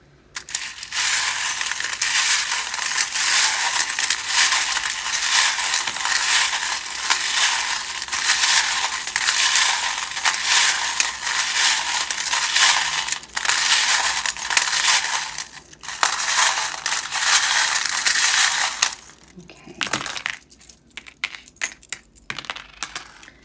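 Continuous crisp shuffling of tarot cards with small clinking charms, dense and close, breaking into a few separate rustles and taps near the end.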